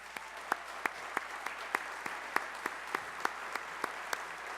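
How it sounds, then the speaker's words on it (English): Audience applause for startup companies at an end-of-year presentation event, a sparse, fairly faint round of clapping with individual claps spaced out steadily over several seconds. "give them a quick round of applause"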